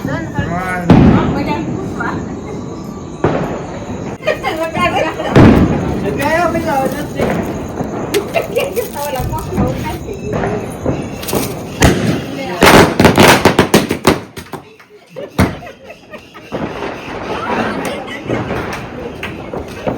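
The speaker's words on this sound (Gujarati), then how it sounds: "કોણ ફોડે છે ફટાકડા ક્યાં ફોડ્યો" Firecrackers burst outdoors in a quick cluster of sharp, loud cracks and pops, rising above nearby voices and background chatter.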